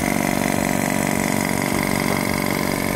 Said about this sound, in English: the compressor's operating at the moment, pumping the air from this tube here into the tank.